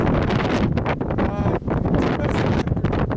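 Strong wind roars steadily against the microphone high on Mount Shasta's Avalanche Gulch route, a loud continuous buffeting rush with gusty swells and brief dips throughout.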